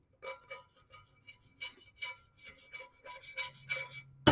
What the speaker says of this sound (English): I just find it easier to scrape it.